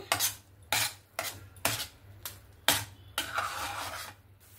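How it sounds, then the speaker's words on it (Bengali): Khoa worked continuously with a spatula in a pan, heard as about six distinct scraping strokes in an uneven rhythm, close and fairly quiet with near-silent gaps between them. "এখানে দেখুন অনবরত নাড়াচাড়া করতে করতে আমি খোয়াটা একদম রেডি করে নিয়েছি"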